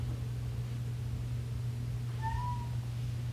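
A cat gives one short meow partway through, moderately close, over a steady low electrical hum in a quiet indoor room during a morning coffee chat.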